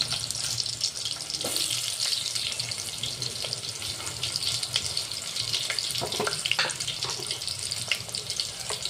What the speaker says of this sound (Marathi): आता आपलं तेल गरम झालेलं आहे. यामध्ये थोडं जिरं टाकत आहे